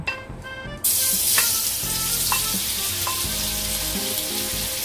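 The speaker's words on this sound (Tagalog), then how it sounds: "Igisa-gisa lang ang mga hipon ng 1 minuto" Seasoned shrimp sautéing in hot oil, a loud sizzle bursting in suddenly and holding steady, with metallic clinks and scraping from stirring over it.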